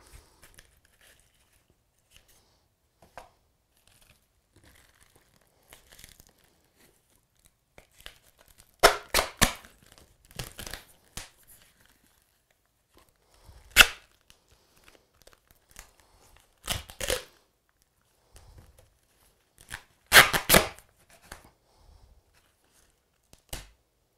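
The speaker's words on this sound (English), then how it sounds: "We're just wrapping this duct tape around" Duct tape pulled and torn while being wrapped around something for a solitary bee habitat: several separate bursts of sticky ripping and crinkling, close by, with quiet gaps between them.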